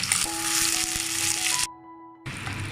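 Onion, green chili and ground paste sizzle while being sautéed in a clay pot for dried anchovy thokku, a close frying hiss with a steady tone that briefly drops out before the sizzle returns.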